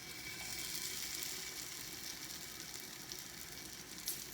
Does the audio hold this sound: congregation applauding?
no